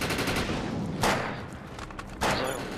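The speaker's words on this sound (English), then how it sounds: "I'll show you how to use a shotgun" Shotgun fire in the video game Defiance, two sharp, loud blasts about a second apart over a busy background of rapid combat gunfire and rattling.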